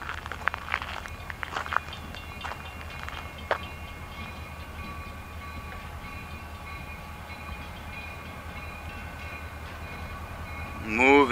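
Two locomotives creep slowly along the rails, giving a steady low rumble with faint metallic squeals and clicks from the wheels, and a sharper squeal near the end.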